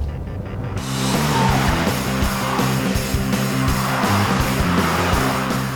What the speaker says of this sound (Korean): 가속 페달을 밟고 차가 나갈 때의 느낌